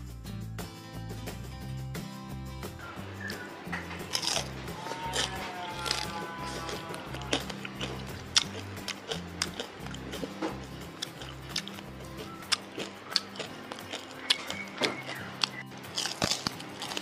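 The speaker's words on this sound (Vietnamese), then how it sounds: "nhai nghe giòn thấu rồi các bạn, nghe gụm gụm gụm gụm luôn á" Someone bites and chews fried chicken wings glazed in fish sauce, with loud, close crunches and repeated chewing over a steady low background.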